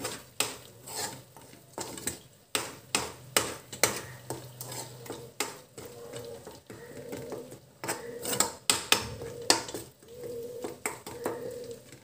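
A chicken pickle made with raw tamarind is stirred in a pan of oil, giving a rapid, regular series of scraping, clattering strokes with a soft sizzle underneath. The stirring is close and loud, with no talking.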